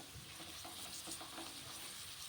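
Thinly sliced potatoes frying in a pan for an egg and potato kurma, giving a faint, even sizzle with soft bubbling crackle, steady throughout and without voices.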